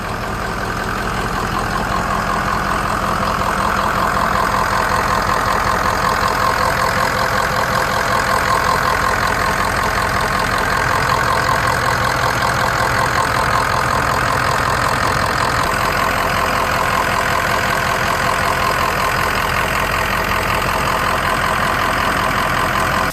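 A 2004 Ford F250 with a 6.0L Powerstroke diesel engine idling steadily throughout, loud and close, a constant rough clattering drone with no talking.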